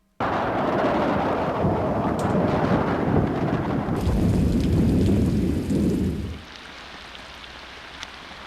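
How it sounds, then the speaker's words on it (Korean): Heavy rain showers from a monsoon front in North Korea roar continuously and close for about six seconds, then drop away to a faint, quieter patter; no one speaks. "전반적 지역에서 비와 소낙비가 내리고 있습니다"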